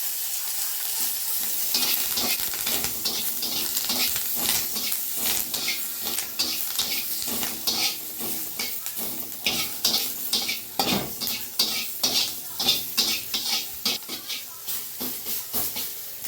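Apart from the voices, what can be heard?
spices and curry leaves frying in oil, stirred in a pan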